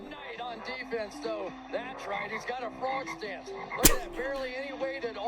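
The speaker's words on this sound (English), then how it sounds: "Bubble Goop Swamp has the frog sound effects in it" Level music from Bubble Goop Swamp in the video game Banjo-Kazooie, a bouncy tune studded with frog croak effects and one sharp loud burst near the end.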